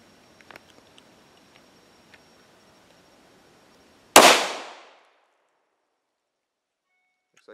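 One loud, close gunshot from a 5.7 pistol firing a standard SS-197 40-grain V-MAX round at a ballistic helmet, a sudden crack with a short decaying tail amid otherwise quiet surroundings.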